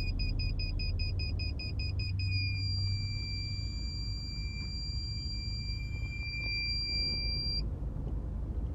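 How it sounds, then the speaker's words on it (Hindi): Parking sensor on a Mahindra Scorpio fitted with a canbus unit, giving a rapid repeating electronic beep that merges into one continuous high tone, steady and clear over low engine and cabin hum. "ये मेरा प्रॉपर सेंसर चल रहा है इसके अंदर, बीप बीप बजेगी, जितना पास आऊंगा उतनी ही इसकी बीप की साउंड है वो तेज हो जाएगी"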